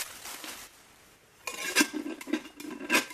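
A metal lid from a bargain bushcraft cook pot is pressed onto the pot. After a soft scrape come several close, sharp metallic clinks and taps as it seats snugly.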